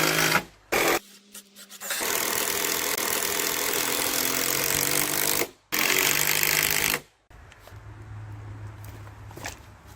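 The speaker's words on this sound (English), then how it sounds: "With the help of the Yanmar excavator, the raw wooden pallets are moved into place for Eric" A Yanmar excavator moving raw wooden pallets, its engine running in a loud, close, rattling drone that cuts out briefly a few times, then drops to a quieter idle near the end.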